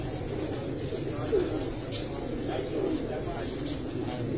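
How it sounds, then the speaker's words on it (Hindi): Pigeons sitting in a dark rooftop loft give a few soft, low coos, faint under a murmur of background voices. "ये जो अंधेरों में कबूतर बैठे हैं"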